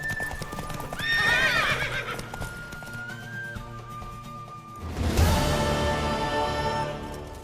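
Horse hooves clip-clop at a gallop in The Witcher 3, with a neigh and whinny near the start and a second burst about two-thirds through, loud and close over game music.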